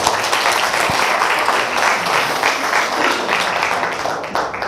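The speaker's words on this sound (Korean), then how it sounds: "박수 한번 쳐주시기 바랍니다." Loud, sustained applause from a lecture audience greets a speaker's bodybuilding world championship, many hands clapping evenly throughout with no pauses.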